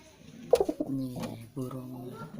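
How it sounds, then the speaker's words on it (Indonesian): Pigeons coo close by in a coop with four young birds, low throaty calls repeating in short bursts with brief pauses between. "burungnya si Blantong, 4 anaknya"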